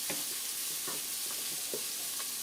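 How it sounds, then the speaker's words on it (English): Onions and carrots are stirred as they fry in oil in a pot for beef stew, making a soft sizzle under a spoon that scrapes in a few spaced strokes, with no voices. "And you kind of want to keep stirring it."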